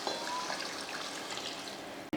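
Water poured into a pan of sautéed vegetables and tomatoes for sambar, a soft steady trickling splash heard close, ending in a brief clatter.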